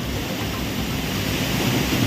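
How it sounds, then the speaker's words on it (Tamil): Courtallam main waterfall in Tenkasi district, flooding after heavy rain, roars as a dense, loud, continuous rush of churning water with a deep rumbling undertone and no talk. "தென்காசி மாவட்டம் குற்றாலத்தில் உள்ள மெயின் அருவியில் கடுமையான வெள்ளப்பெருக்கு ஏற்பட்டிருக்கிறது."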